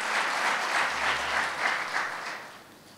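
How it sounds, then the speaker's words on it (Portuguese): A church congregation applauding, dense sustained clapping from a large crowd that swells in waves and fades slightly toward the end. "Vamos aplaudir a Deus pelas nossas crianças e por toda a equipe infantil que trabalha com elas"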